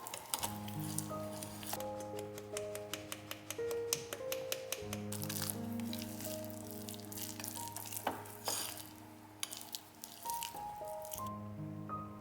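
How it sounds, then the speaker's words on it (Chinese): Cake batter for a Japanese cream cheese chiffon cake, with sifted low-gluten flour, is stirred back and forth in a Z motion, giving soft wet squishing strokes under steady background music. "用 Z 字的方法来回搅拌，搅拌到见不到面粉颗粒"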